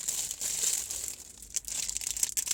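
A plastic packet for a self-adhesive car phone holder crinkles and rustles steadily as it is handled and opened, close and moderately loud, with sharper crackles near the end.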